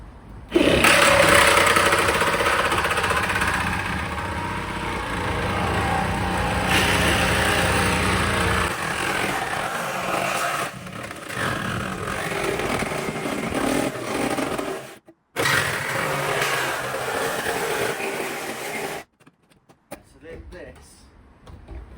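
A loud, continuous grinding whine of a saw blade biting through a Ford Transit's metal body to make room for a gearbox, close and harsh, with brief pauses near the end.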